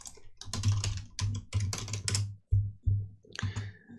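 Typing a search into a computer keyboard in bursts of quick key clicks, with a few short pauses between runs of keystrokes, close and fairly loud with no talking.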